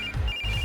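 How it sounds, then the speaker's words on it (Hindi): A phone ringtone sounds alone in a Hindi-dubbed action film scene, a brief sustained electronic tone with a slight break in the middle, clear and close. "इस वक्त दीदी का फोन।"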